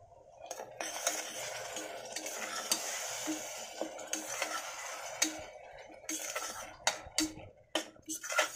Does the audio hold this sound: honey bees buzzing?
no